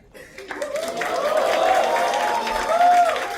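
A crowd applauds and cheers loudly and steadily, with voices mixed into the noise throughout.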